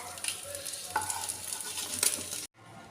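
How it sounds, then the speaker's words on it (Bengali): Bata fish fries lightly in oil, a soft continuous sizzle with a few stirring scrapes and taps, then cuts off abruptly near the end. "আমি বাটা মাছ খুব কড়া করে ভাজবো না, হালকা করে ভেজে নেব।"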